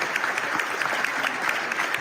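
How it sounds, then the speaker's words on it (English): Steady applause from a crowd, a dense patter of clapping hands sustained throughout. "Applause."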